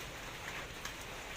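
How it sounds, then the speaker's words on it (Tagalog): Rain falling outdoors at night where coconut shells are being burned into charcoal, a steady soft hiss of drops with occasional louder patters, close and continuous with no talking. "So malas nga kasi umuulan-ulan."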